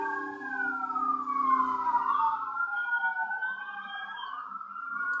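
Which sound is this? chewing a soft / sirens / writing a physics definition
sirens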